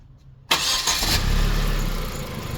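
A Gazelle van's 2-litre turbo engine cranks and catches abruptly, then settles into a loud, steady close-up idle with no one speaking.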